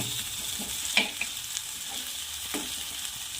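Ginger and garlic frying in a pan for sevai upma, a steady close sizzle with occasional scrapes and clicks of a spoon stirring through it, and no voices.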